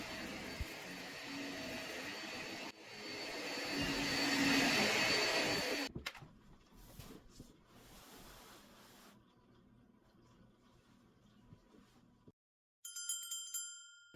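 Household vacuum cleaner running with a loud, steady whir that swells and then cuts off abruptly, followed by quieter clatter and shuffling, and finally a short bright bell-like chime.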